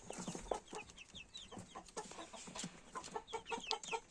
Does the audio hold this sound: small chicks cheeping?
yes